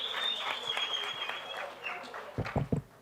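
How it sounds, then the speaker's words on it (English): Applause from an audience at a live interactive session, a moderate, steady patter of clapping that fades, followed by a few louder close knocks or bumps near the end. "ladies and gentlemen, a round of applause for Kolani"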